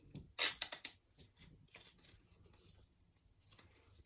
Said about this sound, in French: Bon, voilà, on déballe.